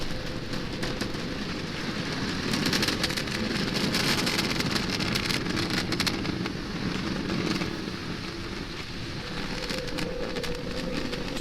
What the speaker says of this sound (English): Merlin engine's just humming